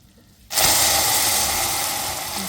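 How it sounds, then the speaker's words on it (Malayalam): Water poured into hot melted caramel in a pan for caramel pudding, erupting after a quiet moment into a sudden loud, sustained hissing sizzle with spattering that slowly eases. "വെള്ളമൊക്കെ പൊട്ടി തെറിക്കുന്നുണ്ട്"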